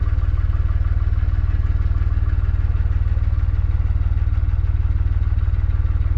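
A narrowboat's diesel engine chugs in a steady, even low-pitched thump as the boat edges forward a few yards along the canal toward a lock landing, close and continuous with no talking.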